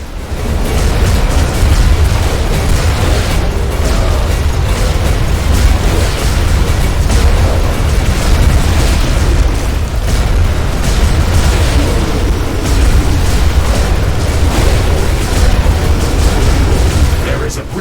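A defensive tower is destroyed in The Riftbreaker amid dense, continuous booming explosions and blasts, loud and layered through the whole stretch over heavy battle noise, with voice alerts mixed in.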